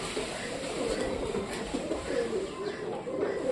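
Pigeons at a home loft coo in low, repeated throaty rolls close by, over a steady background hum.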